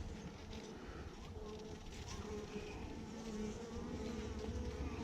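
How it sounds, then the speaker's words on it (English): Honey bees from a wild hive moved into a nuc buzzing around a hive frame, a soft continuous droning hum with individual bees whirring close by. "There's a whole bunch of bees on that edge."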